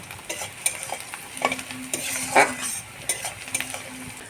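Onions fried in a pan until red and crispy for chicken biryani, with a steady sizzle under frequent stirring scrapes and occasional clinks of a utensil, close and loud, with no one speaking.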